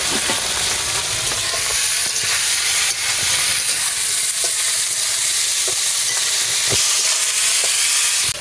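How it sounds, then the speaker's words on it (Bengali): Prawns fry in a pan in a village kitchen for a malai curry, giving a steady close sizzling hiss dotted with small pops and crackles throughout, with no talk. "চিংড়ি মাছটা ভাজা হচ্ছে পিটোপিট করে পাঁচ মিনিটের মতো ভাজলে হয়ে যাবে"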